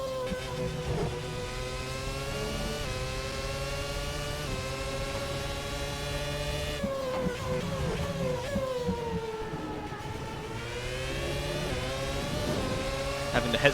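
Engine of an FW31 Formula One race car in the video game Assetto Corsa, a loud high-pitched whine climbing steadily through the gears, easing briefly under a throttle lift, then revving hard again, with no talk.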